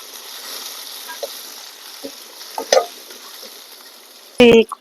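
Light scraping and clinking of a spoon stirring turmeric and spices in a frying pan over a steady background hiss, with a louder burst of clattering at the end.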